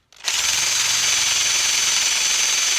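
A power drill starts abruptly and runs steadily at high speed, boring into a cigar box guitar body in a workshop; loud, close and continuous with no talking.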